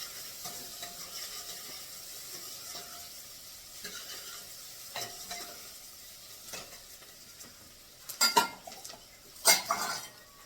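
Tempering for a vegetable dish sizzles faintly in a home kitchen while a spoon stirs and clinks against the pan, with sharper metallic scrapes and clatter near the end.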